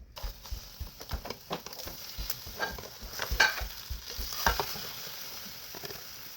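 Breakfast frying in a home kitchen pan, with steady close sizzling, scraping and stirring clatter as the food is flipped over to its other side, and several sharper taps from the utensil.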